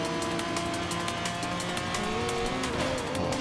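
A race car in Forza Horizon 5 coasts off throttle on a custom circuit, a continuous dense engine drone with tire noise, loud and close with no pauses.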